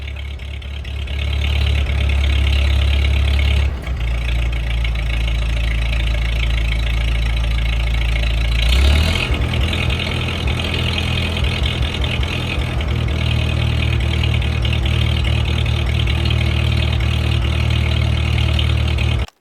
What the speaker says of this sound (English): and then I started up the tractor.